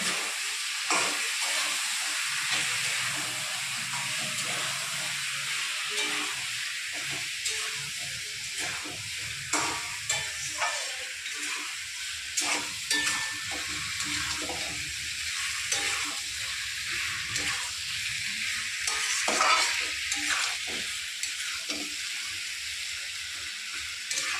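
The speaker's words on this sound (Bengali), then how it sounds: "এবারে আমি দিয়ে দেবো আদা পেঁয়াজ রসুন আর কাঁচা লঙ্কার পেস্টটা দিয়ে কিছুক্ষণ টেনে টেনে" A paste of onion, ginger, garlic and green chili sizzles and hisses in hot oil, stirred now and then, with a continuous close frying crackle for the whole stretch.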